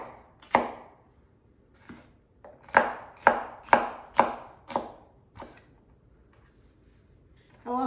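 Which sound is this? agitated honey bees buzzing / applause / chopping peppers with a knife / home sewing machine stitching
chopping peppers with a knife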